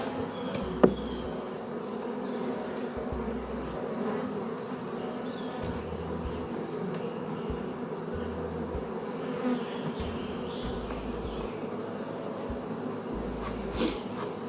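Honeybees buzz around an open colony box in a continuous close, droning hum with a few louder passes as individual bees fly by, and no talking.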